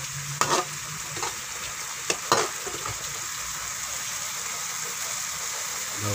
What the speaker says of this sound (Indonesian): Masukkan serai.